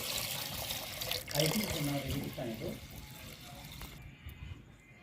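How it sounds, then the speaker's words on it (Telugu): Water pouring and splashing steadily into a cooking pot of washed lentils close by, with a muffled voice talking briefly partway through before the flow thins out. "ఇప్పుడైతే వాటర్ యాడ్ చేస్తున్నానండి"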